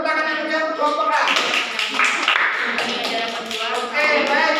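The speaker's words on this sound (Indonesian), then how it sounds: "beri tepuk tangan aja untuk kelompok A" Classroom students clapping for a group, a dense burst of applause that begins after a voice speaks and continues, with talk returning near the end.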